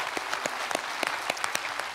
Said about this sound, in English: Can we give those guys a big round of applause that raised their hands for the first time?